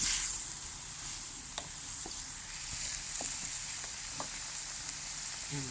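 Curry of puffball mushrooms and pork, soured with tamarind flowers, bubbling in a pot: a steady low hiss with faint scattered pops and soft clicks throughout, no voices.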